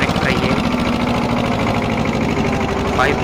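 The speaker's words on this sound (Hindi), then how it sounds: "और ये है पुराना escort 335, it's a great tractor दोस्तों" An old Escort 335 tractor engine runs steadily up close, a loud, even mechanical drone with a rhythmic knocking pulse that holds throughout.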